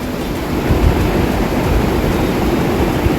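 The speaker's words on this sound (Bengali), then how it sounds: "বৃষ্টিও পড়ছে বৃষ্টির শব্দ অনেক সুন্দর" Heavy rain pours down steadily at midday, a dense, even hiss that fills the whole clip with no breaks and no voices.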